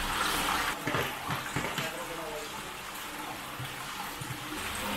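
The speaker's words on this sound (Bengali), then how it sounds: "আর এই জলটাই এখান থেকে গিয়ে এই যে সামনে চলে গেল।" Cold spring water in Kashmir flows steadily with a broad rushing wash, close by, while people talk over it.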